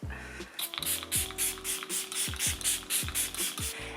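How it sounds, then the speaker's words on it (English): Catrice cosmetics fine mist setting spray pumped repeatedly, a rapid train of about a dozen short mechanical clicks and hissy puffs in a steady rhythm, close and fairly crisp. "the mist is super fine, which is so nice"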